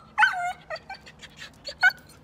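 A dog whines and whimpers in short, high, plaintive cries, several yips spread over a couple of seconds, close by and fairly quiet indoors.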